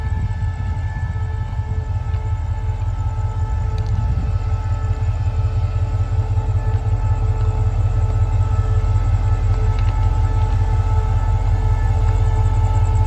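A long 19-car passenger train rumbles loudly and continuously at night, a steady low drone with a faint whine above it.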